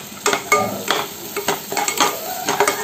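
A spoon stirs freshly ground coconut paste in a hot pan, making rhythmic scrapes and clicks about twice a second over a light sizzle.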